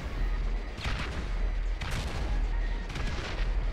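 Grenades explode in a GTA V gunfight, three heavy blasts spaced about a second apart over a continuous rumble of game noise.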